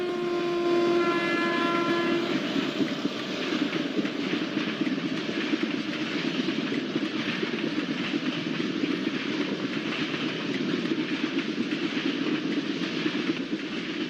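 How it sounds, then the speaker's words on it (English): Simulated AJJ WAG 7 electric locomotive leading an Antyodaya Express in a train simulator game, giving a steady loud rolling rumble of wheels and wagons throughout, with a brief horn-like tone near the start. "Let's have some beautiful rail fanning experience of AJJ WAG 7 locomotive, which is leading TBM NCJ Antyodaya Express."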